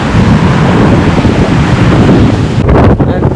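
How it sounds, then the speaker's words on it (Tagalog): Strong surf driven by Typhoon Tino crashes onto the shore of Canipo Island, a loud, continuous roar of waves mixed with heavy wind buffeting the microphone, with no voices. "Sobrang lakas yung alon, yung dasi."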